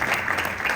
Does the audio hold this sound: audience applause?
yes